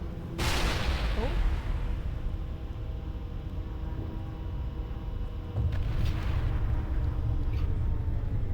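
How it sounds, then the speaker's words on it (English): Gunfire aimed at the player in Mass Effect. A sharp blast opens, then several more shots and booming impacts follow at uneven intervals over a constant low rumble of combat. "Who's shooting me?"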